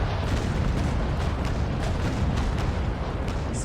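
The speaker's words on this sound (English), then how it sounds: "Going to give her a volley of chain before she angles away from our guns." A sailing warship in the game Naval Action fires a volley of chain shot from its cannons, heard as a dense, sustained rumble of booming blasts that stays loud throughout.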